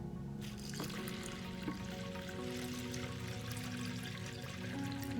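Water poured steadily into a 2-litre glass beaker for homemade laundry detergent, a continuous close splashing trickle with a slight ringing tone that holds for several seconds.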